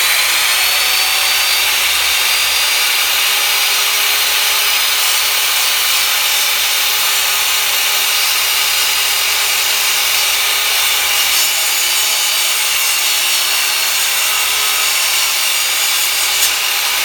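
Ryobi RTMS1800 combination miter saw cutting through a panel: a loud, continuous, high-pitched whine and rasp of the blade in wood that lasts the whole time, close up with no talking.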